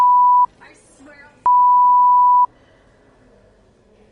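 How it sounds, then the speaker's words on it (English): Morse code beeps heard as two loud, steady electronic tones, a short one and then a longer one a second later, with quieter noise and faint sounds in the gaps. "Oh, that's Morse code."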